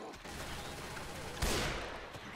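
Gunfire aimed at the Witch in the video game Left 4 Dead 2: a dense, noisy stretch of game audio with a sharp louder blast about midway, heard without talk.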